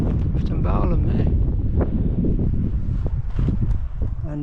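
Gusty wind over open moorland on Mynydd Maen buffets the microphone in a low, roaring rush, with faint speech underneath.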